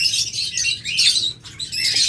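Caged pet birds for sale, such as doves and lovebirds, chirp up close. Bright, rapid twittering comes in short overlapping bursts with a brief pause near the middle, and a flutter of wings can be heard.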